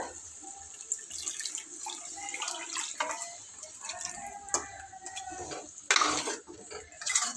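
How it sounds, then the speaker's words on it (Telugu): Water splashes and pours into a pan of chicken and drumstick (moringa) gravy curry amid clinking utensils and stirring, with a louder gush near the end. "ఇప్పుడైతే నీళ్ళు పోసేస్తా"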